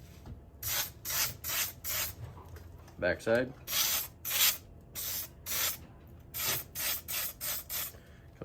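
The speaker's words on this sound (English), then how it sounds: "spray adhesive" Spray adhesive hisses onto seat foam in a string of short bursts, each about half a second, with brief pauses between them and a few quiet spoken words in the background.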